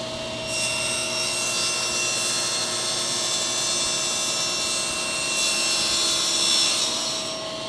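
A power saw cuts a 1/8 inch slot into a wooden board, a steady high whine with a rasping edge that holds close and loud for several seconds and brightens as the blade bites deeper.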